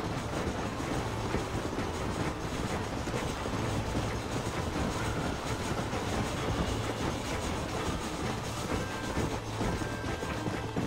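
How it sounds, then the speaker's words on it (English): A steam train rolls steadily through Red Dead Redemption, its wheels keeping up a continuous clickety-clack with a low engine rumble under a dense, loud wash of rail noise and no talk. "Let's just keep following the train."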